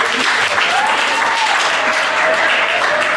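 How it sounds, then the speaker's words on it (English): An audience at a school debate gives one big hand clap, loud, dense applause that stays at full strength throughout and sounds close and crowd-wide. "I want us all to just give one big hand clap for the team that is going to Monrovia."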